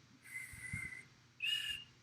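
A patient whistles during a facial nerve examination, producing two short tones: a softer steady note first, then a louder, slightly higher one after a brief pause, with faint breathy noise between them.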